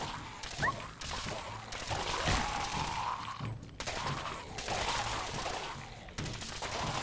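Machine gun fire while fighting ghouls in Fallout 4, in several sustained loud bursts separated by brief pauses, with a clatter of shots and rumbling impacts.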